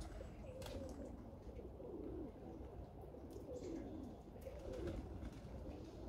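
Budapest pigeons coo in a soft, continuous murmur, several birds overlapping at close range with occasional faint chirps, in a loft where rain keeps falling.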